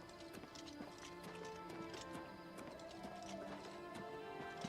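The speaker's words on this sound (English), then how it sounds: "I left my horse up here somewhere, didn't I?" Horse hooves in the video game Oblivion Remastered clip-clopping at a steady walking pace over a faint background hum and soft tones, moderately quiet and fairly distant.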